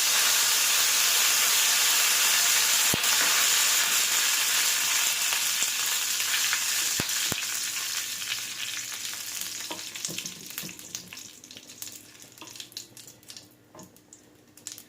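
Urad dal and curry leaves fry in hot oil for a spicy baby potato dish, a loud close sizzle that gradually softens over time, with a few sharp clinks of a utensil.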